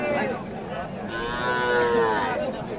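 A calf at a rural cattle market lets out a loud, drawn-out moo close by, rising and then fading, with faint crowd chatter around it.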